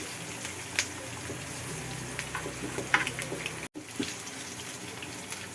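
A tadka being tempered in a pan for Indian dal, with spices frying in hot oil: a quiet, continuous sizzle with scattered small crackles and pops, close by with no voice.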